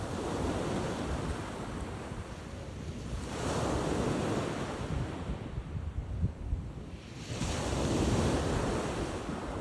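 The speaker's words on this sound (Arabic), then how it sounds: "طبعا انا صوت البحر يمي قريب بسبب انه احنا على البحر." Sea waves break on the shore nearby at night, swelling into two loud washes of surf between quieter stretches, with wind buffeting the microphone throughout.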